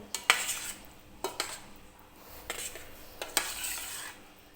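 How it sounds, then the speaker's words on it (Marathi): Gulab jamun being gently stirred in sugar syrup: a few soft clinks and scrapes of a spoon against the pan, spaced apart, quiet and close with no talk. "छान असं अलगद असं मिक्स करून घ्यायचं ह्याला"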